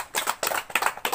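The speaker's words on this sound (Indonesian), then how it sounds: "beri tepuk tangannya guys" Classroom applause comes as a short, close burst of several pairs of hands clapping in uneven pulses for about a second.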